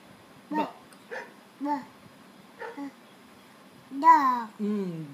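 A small child imitates a dog, giving a run of short, separate voiced "woof" sounds, four quick ones and then two longer, louder ones at the end, spoken close by at bedtime in a quiet room.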